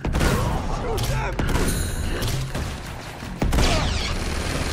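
Dense in-game gunfire from a firefight in Uncharted 2 Remastered, a busy mix of rapid shots and bursts with crashing impacts, loud and continuous under game sound.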